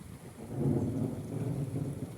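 A low, rolling rumble of thunder following lightning over open fields swells and lingers, deep and steady, with no voices.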